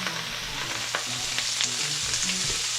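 Smoked sausage fries in a very hot pan, a loud, steady close sizzle with occasional stirring scrapes and ticks, no voices.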